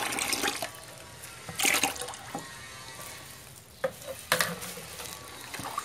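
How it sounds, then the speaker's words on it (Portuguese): Lye solution dissolved in water being stirred into used frying oil for homemade pine-scented soap, giving soft liquid sloshing and scraping with a few sharper clinks and splashes, close by and fairly quiet. "Após dissolver a soda, vamos misturar com o óleo de frituras."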